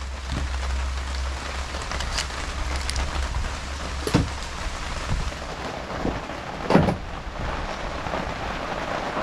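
Steady rain hisses continuously outdoors, with scattered louder drops or taps and a low rumble near the start, no voices present.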